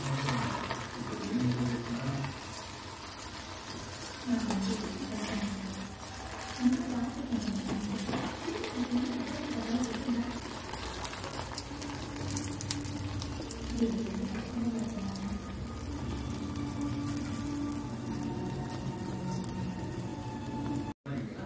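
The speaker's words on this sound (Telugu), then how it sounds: "డీప్ ఫ్రై చేసుకోవాలండి. ఆయిల్ వేడెక్కిందండి. ఇట్లా ఒకటి వేసుకున్నాము." Bread bonda balls deep frying in hot oil, a steady bubbling sizzle that runs throughout while someone talks over it.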